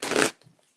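Stiff new playing cards riffle-shuffled once, a dense close burst of crisp flapping lasting about a third of a second, followed by faint handling rustles.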